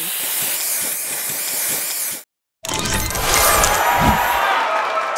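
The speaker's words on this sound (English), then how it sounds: "Booster ready. Spray on." A loud hissing spray booster burst in the game Match Masters, dense broadband noise, then a short gap of silence before another rushing spray with layered effects.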